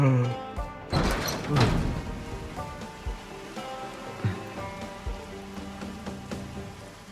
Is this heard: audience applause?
no